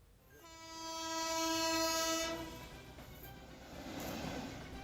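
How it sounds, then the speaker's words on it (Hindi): A freight train on a railway track near Nawada sounds a long, loud, steady horn blast that fades into the rolling rumble of wagons passing close by. "पटरी पर तेज रफ्तार ट्रेन दौड़ी चली आ रही है"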